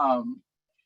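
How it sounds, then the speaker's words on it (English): A house cat gives a single short meow close to the microphone, its pitch rising then falling before it cuts off into silence. "I hope you can hear my cat meowing"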